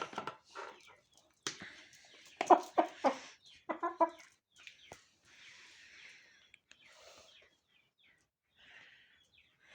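A young, somewhat thin rooster clucks repeatedly in irregular bursts, close and fairly loud at first, then fading to softer, sparser clucks, with faint wing rustles.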